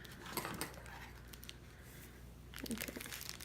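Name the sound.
knife cutting open packaging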